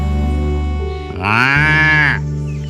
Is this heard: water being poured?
no